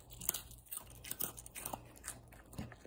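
Dog crunching and chewing a pretzel, with several close, crisp bites and chews in an irregular rhythm over about three seconds, with no talking.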